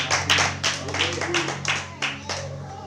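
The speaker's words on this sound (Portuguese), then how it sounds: "Se você pode, aplaudir ao Senhor Jesus." A church congregation claps during a sermon, a handful of rhythmic, separated claps in a reverberant hall over a steady low hum, with voices underneath.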